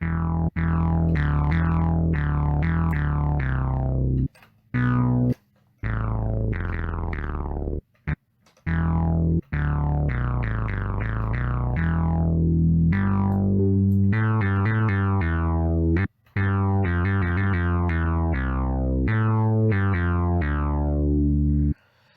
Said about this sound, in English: We could add a little bit of distortion.